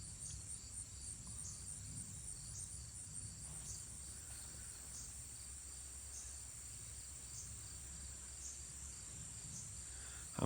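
Insects chirp at dusk after a day of rain around a farm tobacco barn, a faint, steady pulsing drone with regular repeated pulses, far off and quiet throughout.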